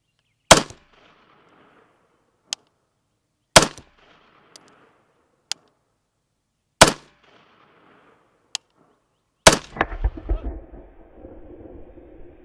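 Gunshots hit a ceramic body armor plate outdoors: five sharp, loud reports spaced a few seconds apart, each with a brief echo, plus fainter clicks between them, and a burst of rustling noise after the last shot.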